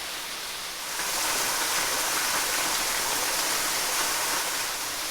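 Waterfall on a hiking trail in Alabama, a steady broadband rushing roar that swells after the first second and holds constant, no voices.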